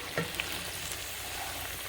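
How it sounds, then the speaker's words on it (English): Potato stew with slit green chilies sizzling in a pot as it gets a quick stir, a steady close frying hiss with a couple of light utensil clicks. "Slit green chilies. Give it a quick stir."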